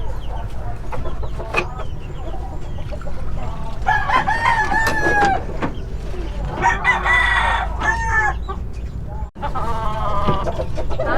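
Roosters crow loudly several times over a busy farmyard din, with chickens clucking and people chatting in the background.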